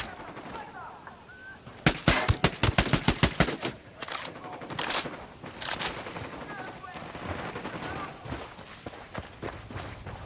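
Rapid automatic gunfire rattles in a loud burst during a Ghost Recon Wildlands firefight, then gives way to scattered shots, footsteps and background noise; a voice speaks briefly.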